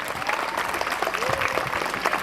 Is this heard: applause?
yes